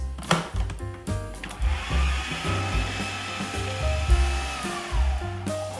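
A food processor whizzes smoked mushroom pâté made with porcini, smoked butter and a generous amount of pepper; a steady, close motor whir runs throughout with slight shifts in pitch.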